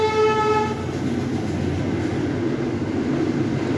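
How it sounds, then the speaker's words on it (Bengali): A passing train heard from nearby during an indoor live stream, a loud steady rumble of rolling wagons with a sustained horn tone, continuous and dominant throughout, with no talk over it. "যে ট্রেন যাচ্ছে,"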